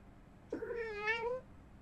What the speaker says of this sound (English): Why am I talking to a cat?